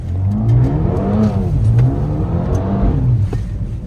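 A Mercedes A35 AMG engine revs hard in cold weather, a loud, close, sustained roar whose pitch rises and falls through several throttle blips.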